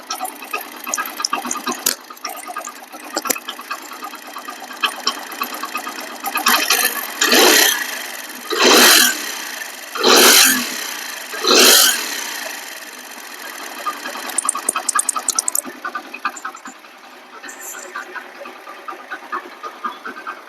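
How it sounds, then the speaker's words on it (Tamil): A Hero Splendor motorcycle engine with loose tappet adjustment screws runs close up with a steady mechanical ticking clatter, swelling in a few louder surges midway before settling back to idle. "வண்டி இன்ஜின் நாய்ஸு நான் மைக்கை கிட்ட வச்சு காமிக்க"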